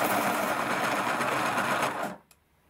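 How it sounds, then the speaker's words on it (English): An X-ACTO TeacherPro 1675 electric pencil sharpener grinds a pencil with a loud, steady whir for about two seconds, then stops abruptly, leaving a faint click. "Let's sharpen it. And I'll have you watch the blue light, and I will not talk so you can hear how loud this is."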